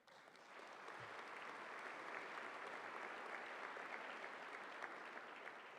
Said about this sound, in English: I hope you will give a big round of applause